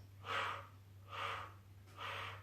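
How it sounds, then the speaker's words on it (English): Three slow, deep breaths are taken during a Pilates mat exercise, each an airy rushing exhale about a second long, evenly spaced and close, over a faint low hum. "Take a nice deep breath in. As we're breathing out, we're going to rotate 3 times."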